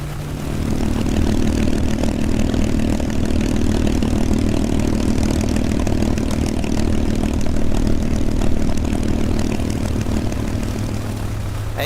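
A P-51D Mustang's propeller engine in the A2A flight simulator drones steadily at a low, rough idle-like rumble, loud and continuous throughout with no voices.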